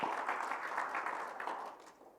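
Congregation applauding during a Sunday church worship service, a steady wash of many hands clapping together for about two seconds before fading out, fairly close and with no voices over it.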